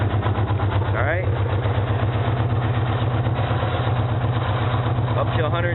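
A 2004 Yamaha Warrior motorcycle V-twin engine idles steadily with a deep, pulsing low throb that holds the same rhythm throughout, loud and close, while someone talks over it.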